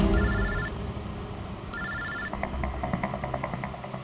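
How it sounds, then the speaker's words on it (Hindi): A telephone rings in two clear electronic bursts of bright repeating tones, followed by a rapid chirping ring pattern, heard over a low background rumble. "मैंने अमन को फोन किया।"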